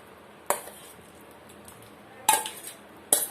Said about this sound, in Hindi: अभी ले लेंगे एक हम मिक्सर जार, उसमें हम अपने आम को ट्रांसफर कर लेते हैं।